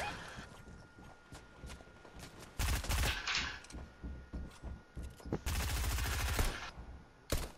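Fortnite gunfire in two loud bursts of rapid automatic shots, separated by quieter scattered shots and footsteps, with a voice briefly speaking.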